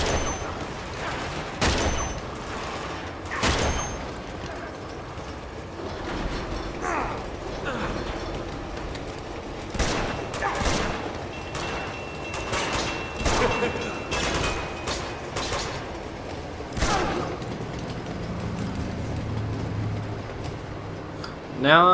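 Gunfire and mechanical clatter in the video game Uncharted 2, scattered sharp shots and metallic clicks at varying loudness throughout, with a player speaking over the game sounds.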